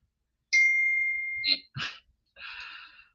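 Phone notification chimes ring out close and clear: one sustained two-tone chime, then a few shorter bright bursts, with no talking.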